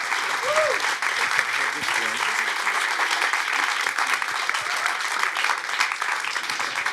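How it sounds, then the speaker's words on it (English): An audience applauds after a film screening at a question-and-answer event, sustained dense clapping from a crowd that carries on loud and steady throughout, with voices faintly mixed in. "These applause are for you, Osama."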